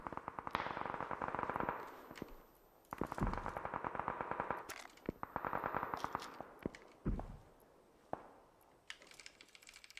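Video game gunfire rattles in rapid automatic bursts separated by short pauses, with sharp single shots and echoing cracks mixed between the volleys, fairly loud and close with no talking.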